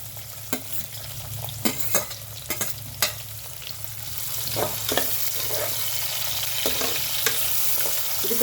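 Chopped onions dropped into hot oil with urad dal for a cabbage fry, giving sharp stirring scrapes and spatula knocks at first, then a steady rising sizzle that fills the rest.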